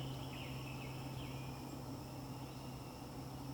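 Wild turkey gobbling in Louisiana woods, a couple of faint distant gobbles set against a loud steady wash of insect and cricket drone with a low hum, no voices.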